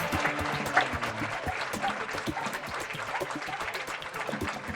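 Spectators at a police K9 dog exhibition give a round of applause, a dense patter of many hands clapping steadily throughout, with faint crowd noise underneath.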